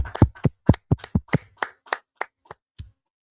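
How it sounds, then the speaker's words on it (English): A group clapping hands, a quick run of about a dozen sharp, close claps in loose rhythm that thin out and stop. "Let's clap it up."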